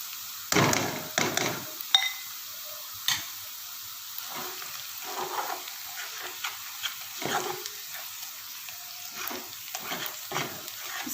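Spices tipped into onions frying in a pan, with a few sharp clatters and scrapes from a spoon against the pan over a low, intermittent sizzle.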